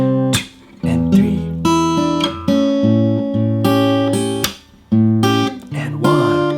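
Fingerpicked acoustic guitar plays the intro of a song at a slow pace, steady bass notes under plucked chords in a loping rhythm, close and clear with no talk.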